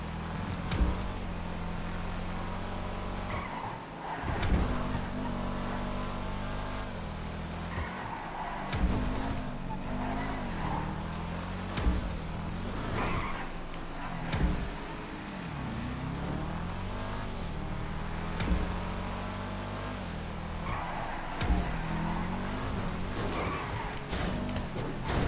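A tuner car from GTA 5 drives around a race track, its engine droning and shifting pitch as it revs and slows through corners, with sharp clicks and bumps scattered throughout.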